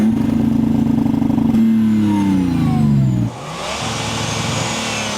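A diesel car with an aftermarket exhaust revs loudly up close, pitch rising and falling through a couple of surges before dropping sharply into a lower rumble.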